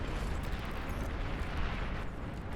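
Plasma bots blow up in a video game battle, a dense, loud, continuous roar of explosions and rumbling blasts filling the whole moment without a break.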